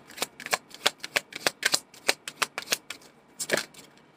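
Heavy tarot cards being shuffled by hand, a quick series of crisp riffling snaps and slaps in uneven bursts, close and clear with no voices.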